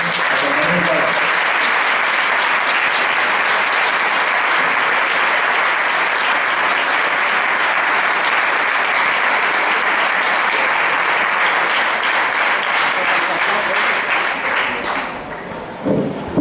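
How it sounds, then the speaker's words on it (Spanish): Sustained loud applause from an audience at a school end-of-year festival gala, honouring the teachers; dense crowd clapping that holds steady for a long stretch before dropping off abruptly near the end. "Por favor, un aplauso para ellos."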